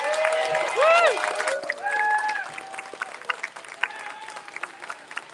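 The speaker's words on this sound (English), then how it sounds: "Standing up for 1 second and giving Ted a huge round of applause." An audience at a FarCon conference stands to applaud and cheer, with clapping and whoops rising near the start and a scattered patter continuing as voices talk over it.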